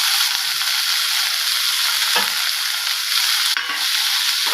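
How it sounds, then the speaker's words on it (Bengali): Tomatoes fry and are stirred in hot oil in a pan for a Kerala-style egg malai masala, making a loud, continuous close-up sizzle broken by a couple of brief spatula scrapes. "টমেটোগুলো ওর সাথে ভাজা হবে,"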